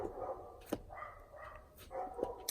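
Dogs bark faintly in the background of an indoor scrapbooking session, with a couple of short, distant barks standing out over quiet room noise.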